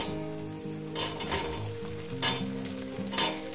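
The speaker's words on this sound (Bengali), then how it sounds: "ঢেঁড়সটাকে দেওয়ার পর আমি আরো 4-5 মিনিট এটাকে রান্না করবো, মানে ভাজবো" Okra fries in a pan for a spicy fish curry, a constant close sizzle with bursts of stirring at intervals under a low tonal hum, no one speaking.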